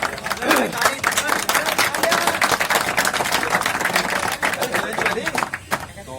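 Hearty applause from an audience at a youth organisation's honouring event, dense steady clapping throughout with voices mixed in.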